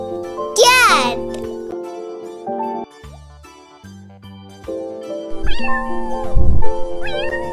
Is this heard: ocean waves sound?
no